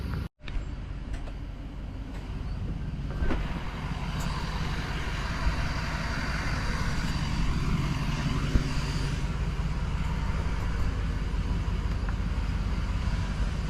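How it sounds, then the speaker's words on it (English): A Detroit DD15 diesel engine in a Freightliner Cascadia with leaking injector pass-through seals turns over after a short click, then settles into a loud, steady, close-up diesel roar that runs without a break. No one speaks. "I put about a gallon in and then I start the engine."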